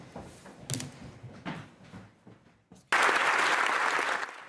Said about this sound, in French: Une salve d'applaudissements pour l'ancien président de la République.